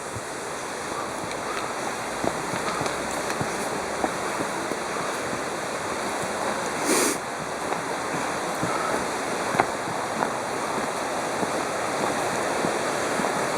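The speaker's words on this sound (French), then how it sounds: "arrivé à ce niveau-ci, on entend bien la rivière" River flowing far below in the Ariège valley, a steady broadband rush of moving water heard from above, continuous and even, with a few faint knocks and a brief gust partway through.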